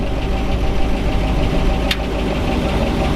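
The engine of a rear-steer buggy with an RCV axle shaft runs at a slightly raised idle, a steady close rumble that holds for a few seconds. There is one brief high tick partway through and no talk.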